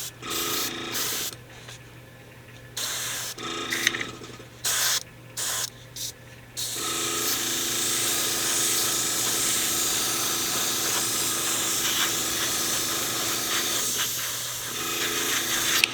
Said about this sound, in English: So I'm going to cover the whole figure. Going to keep the airbrush back a little bit